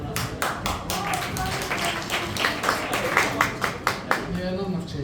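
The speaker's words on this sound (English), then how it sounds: "A huge round of applause" An audience claps as speakers take the stage, a scattered, moderately loud round of applause with distinct individual claps under voices talking, thinning toward the end.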